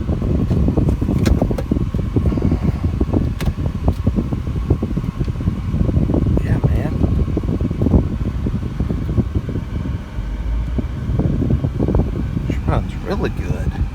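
Cabin noise inside a 2010 Kia Sportage while driving, a constant loud road and engine rumble with fan-like rushing and scattered thumps and rattles throughout, with no talking.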